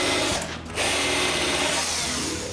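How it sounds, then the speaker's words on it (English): Power drill boring pilot holes in wood while building an edge sander: a loud, steady, close-up whirring drone that dips briefly, then runs on evenly. "Then I drill the rest of the pilot holes"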